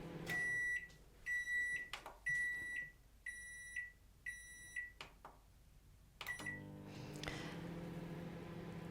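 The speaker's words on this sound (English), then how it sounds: "With this particular microwave, the quickest setting is just to put it on for a minute at a time." A microwave oven used to melt chocolate gives a series of short, sharp electronic beeps as buttons are pressed, then a door clunk and the steady low hum of the oven starting to run.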